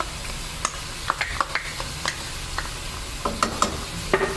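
Onions and turmeric fry in a kadai for chicken karahi: a low sizzle under repeated sharp spoon scrapes and taps against the pan, irregular and close.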